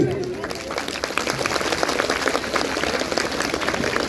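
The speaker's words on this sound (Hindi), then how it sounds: "ताली तो बजा दो बढ़िया सी।" Audience at a Gayatri Mahayagya clapping, a dense, steady wash of applause from a crowd that rises quickly and holds loud and continuous, with a voice briefly audible at the start.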